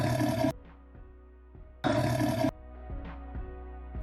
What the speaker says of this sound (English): Finally, add a tiger roar sound effect and sync it with the red eye animation.